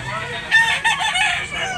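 A rooster crows loudly and close by, a single drawn-out call with a strained, rising cry and no talking.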